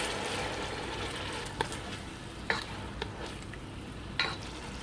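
Beef pieces sautéing in annatto oil for kare-kare, a steady close sizzle with a few sharp stirring clatters spaced through.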